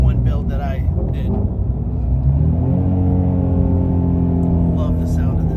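A 2024 Corvette C8 Z06 with a flat-plane V8 revs and climbs through the gears, a loud rising engine note under a steady rumble, with people talking over it inside the car.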